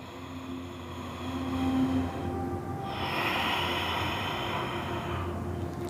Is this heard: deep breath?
yes